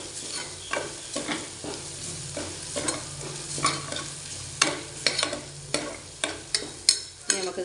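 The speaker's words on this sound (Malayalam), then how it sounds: "ഇനി ഇതിനകത്ത് ഇടുന്നത് കൊച്ചുള്ളിയും സവാളയും." Shallots and onions fry in a pan and are stirred, making a continuous sizzle broken by frequent scraping strokes and clinks that grow busier toward the end.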